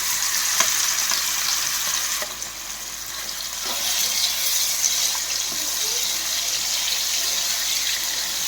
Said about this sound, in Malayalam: എണ്ണ നന്നായിട്ട് മൂത്തിട്ടുണ്ട്. അതിൻ്റെ പകുതി ചെമ്മീനിടണേ.